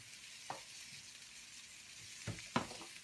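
Ground ginger being stirred into sesame oil in a frying pan, with a steady soft sizzle and a few brief scraping clicks of the spoon against the pan, quiet and close.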